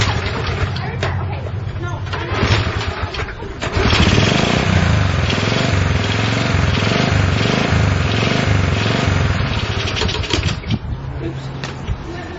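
A small Honda CL70 motorcycle engine runs close by, sputtering and buzzing unevenly as the throttle is twisted, surging louder midway then wavering and stumbling.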